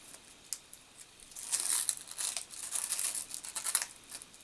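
A die-cut paper piece peeled off a metal cutting die for a birthday card, heard as close, soft crinkling and tearing-like rustles that build in the middle and continue in short bursts.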